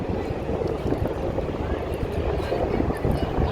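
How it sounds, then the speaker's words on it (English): Steady wind gusting through a downtown Chicago street near Lake Street and Michigan Avenue, a continuous rushing roar buffeting the microphone with low rumble, traffic blended in throughout. "It's really windy now."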